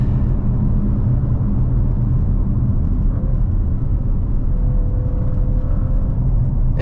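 A 2024 Audi RS 6 Avant engine rumbles loud and steady from inside the cabin as the car pulls hard, the deep drone holding with a rising tone near the end.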